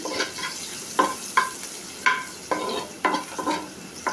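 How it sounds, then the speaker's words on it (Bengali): Noodles and pasta with noodle and pasta masala and chopped onion fry lightly in a pan, with a steady close sizzle broken by repeated scraping stirs about every half second. No one speaks. "হালকা একটু ভেজে নেব"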